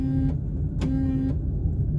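A malfunctioning car door lock makes two or three close-by motorized whirring bursts with a steady tone, each lasting about half a second, over a constant low rumble inside the car.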